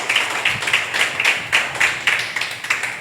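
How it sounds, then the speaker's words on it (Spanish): A church congregation applauding together, rhythmic group clapping in regular bursts, moderately loud and close, with no talk over it. "Denle ese aplauso al Señor"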